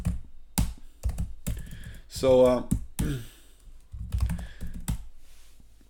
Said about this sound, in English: typing stuff into the engine and it's reading the text that you type